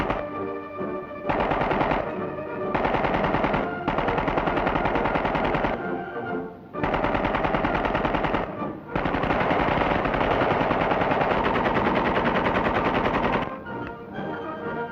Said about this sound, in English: Regular service cartridges are fired from these weapons